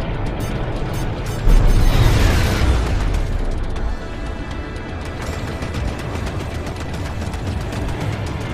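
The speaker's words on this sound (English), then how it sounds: "Enemy missile fired." A missile explosion in the space combat game Strike Suit Zero: a loud boom bursts at about 1.5 seconds, followed by a sustained rumbling roar that slowly fades under continuous engine and battle noise.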